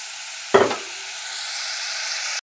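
Spice masala fries in oil with a continuous sizzle, broken early by a brief clattering knock before the frying hiss swells, then cuts off abruptly at the end.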